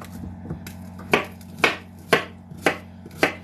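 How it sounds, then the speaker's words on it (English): Sweet potatoes sliced into quarter-inch rounds with a knife on a cabinet top, five crisp evenly spaced chops close up against a faint background hum. "I'm cutting these about a quarter inch thick. Sweet potatoes."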